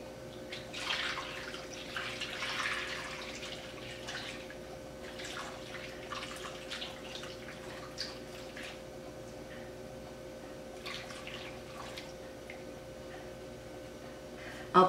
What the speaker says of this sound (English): I'm going to pour the gravy over the hamburger.